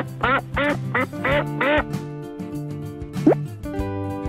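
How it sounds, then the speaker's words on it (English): A duck quacks five times in a quick, loud, close series, then gives a single later call, with small plopping sounds in between. "Duck."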